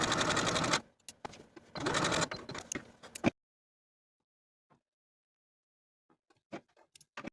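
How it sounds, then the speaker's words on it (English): A sewing machine stitches darts in a top, two loud, rapid whirring runs in quick succession, then silence, followed by a few faint, short clicks at the end. "I'm going to sew along my transferred lines from the outside edge to the point"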